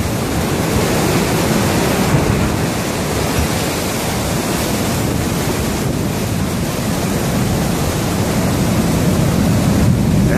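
Large ocean waves crash ashore in Acapulco during a swell, a steady loud broadband roar of surf and churning water with no let-up throughout.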